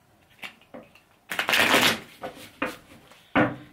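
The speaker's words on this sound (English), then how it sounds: "Let me just shuffle it properly." A deck of tarot-style cards is shuffled properly by hand, giving a few scattered clicks and taps then a burst of riffling rustle, with more soft card snaps after, no talking.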